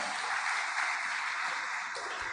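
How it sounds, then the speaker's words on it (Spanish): A church congregation applauds for the Lord, a steady, moderately distant wash of clapping with no voices over it. "¿Cuántos les pueden dar un fuerte aplauso al Señor?"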